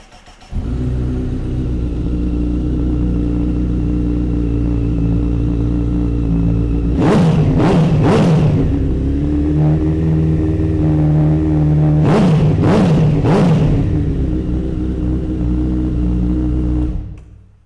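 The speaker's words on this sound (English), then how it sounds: "The Akrapovic silencer on this Fireblade sounds absolutely fantastic." A Honda CBR1000RR Fireblade superbike fitted with an Akrapovic silencer idles loudly and close up, then gets two bursts of three quick, sharp throttle blips each, settling back to a deep, steady idle between them.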